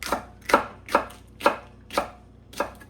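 A knife chops vegetables on a board for a smoky, spicy barbecue sauce, six firm, evenly spaced thuds about half a second apart, close and loud, with no talk.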